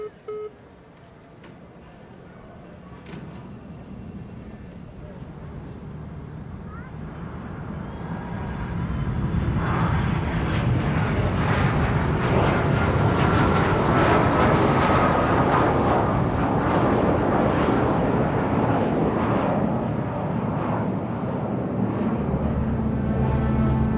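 An airplane passes overhead, a broad roar that swells over about ten seconds and holds steady, with a faint falling whine above it and no voices.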